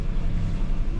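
A sailboat's engines run at 1200 rpm, giving a loud, steady low drone with wind noise mixed in and no talk.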